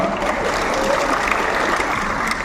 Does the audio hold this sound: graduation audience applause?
yes